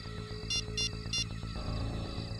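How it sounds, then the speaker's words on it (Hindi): Three short electronic ringback tones chirp over a low steady hum, followed by a quieter stretch of background noise. "मैं अभी सुनील को फोन लगा था।"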